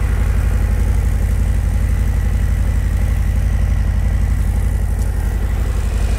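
A Milwaukee 8 motorcycle engine idles steadily, its low, throbbing pulse loud and close and holding even throughout, with no talking.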